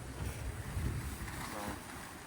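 A barn-find Mazda RX3 coupe's 12A rotary engine running: a steady, low, rough rumble with gusty wind noise over it.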